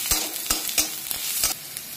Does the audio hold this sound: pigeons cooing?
no